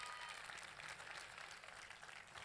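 Audience applause at a live outdoor music event in Golfo Aranci, a steady wash of clapping from a crowd, fairly quiet and continuous throughout.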